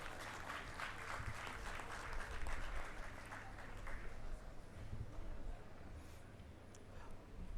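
Applause from the audience at a university convocation ceremony, a broad steady wash of many hands clapping at moderate distance, fairly faint and fading slightly toward the end.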